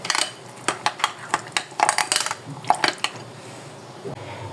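A spoon scrapes and clinks against a bowl while biryani masala is mixed with orange food colour, giving a run of sharp taps and scrapes with soft wet mixing underneath.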